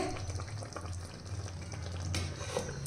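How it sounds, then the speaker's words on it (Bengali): Goat meat frying in a pan, a steady close sizzle with soft stirring scrapes running throughout and no talk. "এই মাংসটা কষতে দিয়ে"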